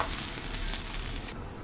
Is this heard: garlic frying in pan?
yes